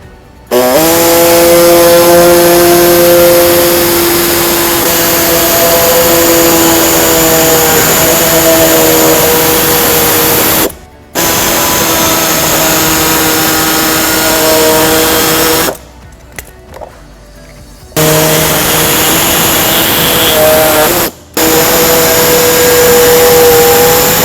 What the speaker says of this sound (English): So we're going to use an air saw to cut out these 2 sections.